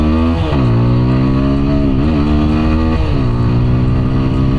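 A TVS Apache 160 4V motorcycle in sports mode launches hard on a highway, its engine note climbing steadily through the gears in loud, continuous revving with brief dips at each shift, close and unbroken throughout.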